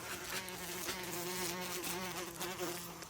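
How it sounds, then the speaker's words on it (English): Bees buzz close by inside a greenhouse, a steady droning hum that wavers in pitch as they fly around, with no voices. "There's a honeybee right there."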